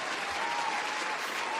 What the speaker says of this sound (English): The fact that I can't find the applause sound right now